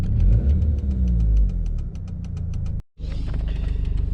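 A 1997 Volvo 940 engine runs nearby with a low rumble and a steady rhythmic ticking, then a brief cut and a slightly different, even running note; no voices.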